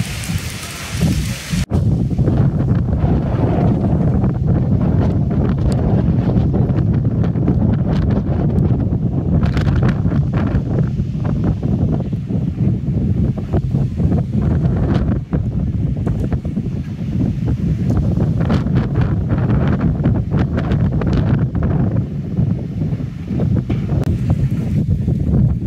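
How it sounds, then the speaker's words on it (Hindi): Steady rain falling with gusting wind buffeting the microphone outdoors while waiting by the tracks for an engine, a continuous loud wash of noise throughout with no voices. "बारिश थोड़ी थोड़ी तेज़ होना शुरू हो गई यहाँ पे"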